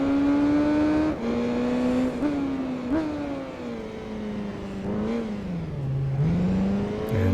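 Race car engine in the racing game Tourist Trophy, a loud steady whine rising and dropping through several gear shifts as it revs, close and continuous, with no talk.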